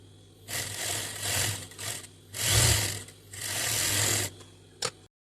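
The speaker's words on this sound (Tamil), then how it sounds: "இப்போ நெக்ஸ்ட் ஸ்லீவும் நம்ம ஸ்டிச் பண்ணி எடுத்துக்கலாம்." A sewing machine stitches a blouse sleeve in several loud, close bursts of whirring, with brief gaps between them. It ends with a sharp click and then silence.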